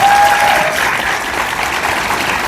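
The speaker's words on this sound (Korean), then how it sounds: "여러분 박수 보내주십시오" Sustained audience applause from a crowd at a football club event, steady and dense throughout with no pauses.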